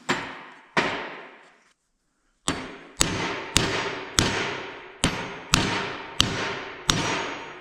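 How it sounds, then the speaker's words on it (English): A bearing is hammered onto a spindle with sharp, ringing metallic blows, about ten strikes in steady rhythm after a short pause, each loud and close with a brief decaying ring. "Now our spindle is cooled off. We can pound our bearing in there."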